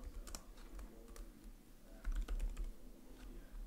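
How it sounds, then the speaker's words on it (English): Steady typing on a computer keyboard, irregular clusters of sharp key clicks at close range with no talking, getting slightly louder toward the middle. "I'm going to do a lot of typing"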